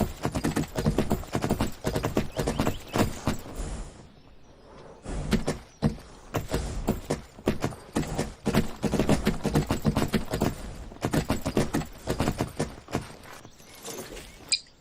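Horse hooves clip-clop in the video game Garry's Mod, a rapid run of loud, close clattering hoof strikes with a short lull near the start before the rhythm picks up again.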